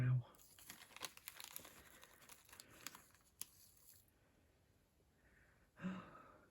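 Cellophane wrapping crinkles and rustles as it is handled, a close run of soft irregular crackles over about four seconds, then a brief louder rustle near the end, with a quiet voice in the room.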